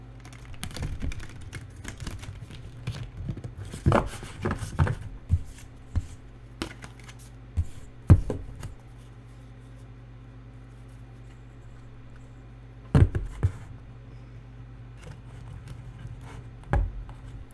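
A tarot deck being shuffled by hand, with dry riffling card flicks and taps in irregular bursts separated by quiet gaps, close up with no talking.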